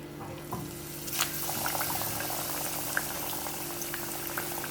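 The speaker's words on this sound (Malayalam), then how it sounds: "ആദ്യം ചിക്കൻ ഫ്രൈ ചെയ്യാം. എണ്ണ ചൂടായിട്ടുണ്ട്. എണ്ണ ചൂടായി അതിലേക്ക് ഇടാം." Chicken pieces frying in hot oil for a crispy chicken burger, a steady close bubbling sizzle with faint stirring clatter and a few light knocks throughout, no talk.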